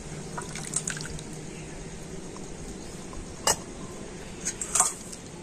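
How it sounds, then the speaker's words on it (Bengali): Raw mango juice trickles and drips through a large sieve, soft close liquid dribbling with a few brighter splashes and clinks, quiet and without voices. "আর এখন আমের এই জুসটা আমি ছেঁকে নেব।"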